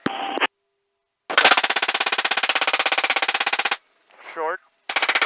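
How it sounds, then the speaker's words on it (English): An M134 minigun fires from a helicopter in two long, rapid buzzing bursts separated by a short gap and a brief radio-like voice, loud and close. "left gun, open fire"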